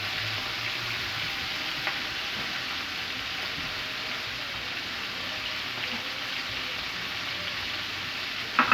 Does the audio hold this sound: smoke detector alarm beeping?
no